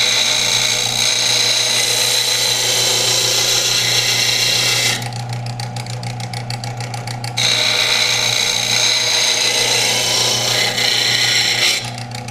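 A power sharpener grinds steel off a skinning knife blade, a continuous high whine with a gritty rasp that drops away briefly mid-pass and then resumes, loud and close with no voices.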